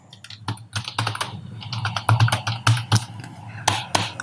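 Rapid typing on a computer keyboard, close and clear, with irregular bursts of key clicks and a few sharper taps standing alone with no talk.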